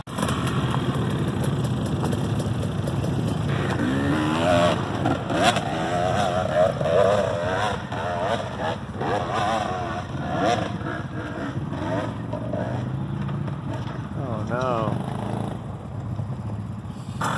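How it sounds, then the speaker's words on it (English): A dirt bike engine strains up a rough trail, revving and surging unevenly at close range, with pitch rising and falling as the throttle works against the climb. "That's hard on a dirt bike."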